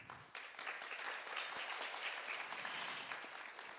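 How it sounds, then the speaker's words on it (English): Crowd at an international conference on women and peace gives a warm, sustained round of applause for a panel speaker, dense clapping that swells after a brief quieter start. "Please welcome her with a big round of applause"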